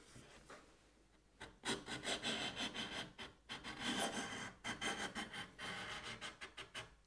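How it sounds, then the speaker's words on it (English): Strokes of a Japanese kanna hand plane take powdery thin shavings off wood, a series of close, raspy, rhythmic hissing passes of varying length, fairly loud, with no talk. "It's taking powdery thin shavings off of there."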